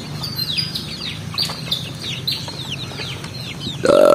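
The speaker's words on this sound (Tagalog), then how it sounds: "Yan o, ating mga sisiw." Chicks of native free-range chickens cheep in rapid, high-pitched bursts, several overlapping peeps close by, with a louder cluck or call near the end.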